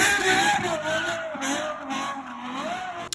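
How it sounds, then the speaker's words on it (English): A Gintani-tuned Ferrari 812 rips donuts and burnouts, its engine holding a steady high-revving wail that rises and falls with the throttle, loud and close, with tire noise mixed in throughout. "Ripping donuts. Ripping burnouts."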